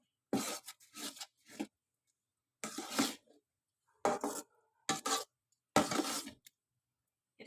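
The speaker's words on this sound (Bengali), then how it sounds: "এটাকে বারবার এইভাবে আমি নাড়তে থাকবো যাতে তলায় ধরে না যায়।" A spoon stirs woodapple pickle with vinegar and chili flakes in a pan, giving a few short, close scraping and clinking bursts separated by quiet gaps.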